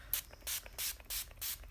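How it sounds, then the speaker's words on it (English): Four quick pumps of a makeup setting spray bottle misting onto a face close up, each a short soft hiss of mist, spaced evenly about a third of a second apart. "So I'm just gonna spray it."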